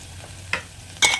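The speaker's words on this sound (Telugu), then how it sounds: "ఆనియన్ కొంచెం ఫ్రై అయ్యేంత వరకు కలుపుకొని" Onions with turmeric, cooked for an okra fry, stirred in a pan: a faint hiss marked by two quick scraping strokes, the second louder.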